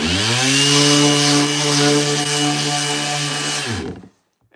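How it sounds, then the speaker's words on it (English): Electric sander working a wooden cutting board, a loud steady whining buzz with strong tonal hum that runs continuously for about four seconds, then cuts off abruptly as the tool is switched off. "this is a better sander than the rigid sander"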